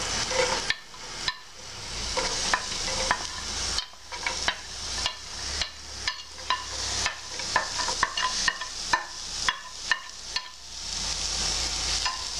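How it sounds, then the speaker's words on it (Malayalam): Carrots, beans, onion and red chili fry in hot oil, a steady broadband sizzle carrying on throughout, broken by repeated sharp scrapes and clacks of a spoon stirring the pan. "ചൂടായ എണ്ണയിലേക്ക് നമുക്ക് ക്യാരറ്റും ബീൻസും സവാളയും റെഡ് ചില്ലിയും ഇട്ട് കൊടുക്കാം."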